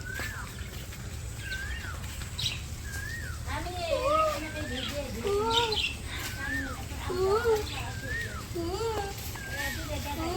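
A bird calls repeatedly in a rainy village, a series of clear, rising and falling chirps at moderate distance over a steady background hum, with a few brief human sounds.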